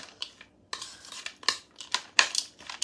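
Broccoli salad being tossed and stirred in a bowl, giving quick, close, crisp rustling and scraping strokes in uneven bursts with short pauses, fairly quiet and with no talking.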